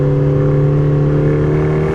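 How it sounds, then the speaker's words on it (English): A loud, steady engine drone from a turbocharged four-cylinder Lotus Emira accelerating, with a smooth, slowly rising whine, heard from close by without any voices. "the turbo sounds are just awesome"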